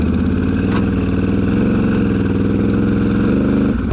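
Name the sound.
four-wheeler ATV engine running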